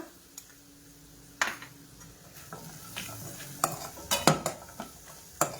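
Oil crackles and sizzles in a pan as a spice tempering is prepared, with sharp pops and clicks scattered unevenly over a low hiss.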